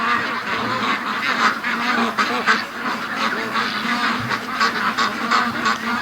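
A group of Muscovy ducks calls near and loud, with overlapping honking and quacking from several birds over a dense, continuous background of poultry noise.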